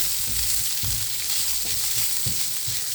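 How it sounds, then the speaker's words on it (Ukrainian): Sausages fry with a loud, steady sizzle in a pan as cabbage is poured in, with bursts of crackling and a few stirring scrapes over a continuous hiss, no talking. "Зараз буду висипати сюди капусту"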